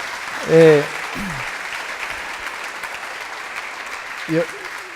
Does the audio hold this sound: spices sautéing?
no